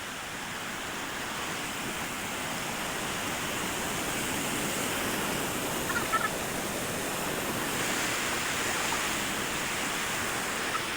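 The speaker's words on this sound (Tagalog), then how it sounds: "So ayan ang kanyang pinaka powerful na agos." Strong rushing current at a river swimming spot in Calauan, Laguna, a steady broadband roar of flowing water that stays loud and continuous throughout, with no talking.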